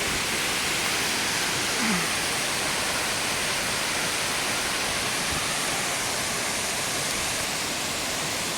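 A steady, dense roar of falling water fills the clip, loud and unbroken, at Khlong Lan Waterfall in Kamphaeng Phet province, Thailand.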